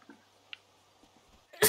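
A single sharp, loud sneeze bursts out at the very end after a stretch of quiet room murmur and faint shuffling.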